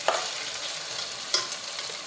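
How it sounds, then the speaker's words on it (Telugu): Ginger garlic paste fries in a pan for a chicken fry, a steady close sizzle broken by two sharp scrapes of stirring. "అల్లం వెల్లుల్లి పేస్ట్ పచ్చివాసన పోయేంత వరకు బాగా వేగనివ్వాలి."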